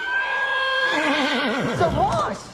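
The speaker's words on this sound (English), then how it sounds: "The horse." A horse whinnies loudly and close by, a long wavering neigh with rising and falling pitch that ends in a snort.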